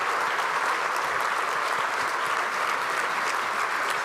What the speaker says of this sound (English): ARVO leadership, Iris Rush and Lancy Cohen, a big round of applause for organizing all this.